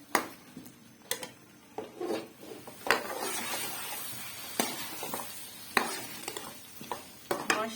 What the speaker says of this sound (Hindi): यहाँ पे आलू मेरे जो है अच्छे से फ्राई हो चुके हैं, भून चुके हैं